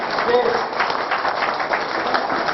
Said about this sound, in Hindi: ये ताली के साथ जो स्वागत हुआ